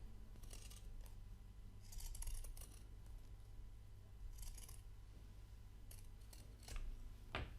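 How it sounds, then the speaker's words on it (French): Pinking shears trimming a fabric seam allowance, heard as a series of crisp, close snips and metallic blade clicks in an irregular rhythm over a steady low background hum, with no talking. "vous pouvez utiliser justement votre ciseau cranteur pour pouvoir dégarnir en fait la valeur de couture"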